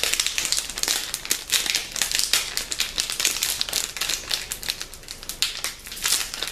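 A crinkly plastic snack packet holding chocolate being torn and pulled open close by, with dense, rapid crackling and rustling bursts over several seconds and no speech.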